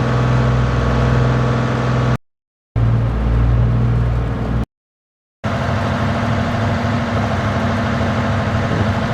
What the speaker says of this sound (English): Very nice engine sounds.